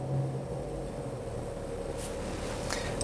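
A 1969 Rolls-Royce Mulliner Park Ward coupe with a stainless exhaust idles quietly nearby, a soft, even low rumble under a faint broadband hiss, steady and unhurried with no talk.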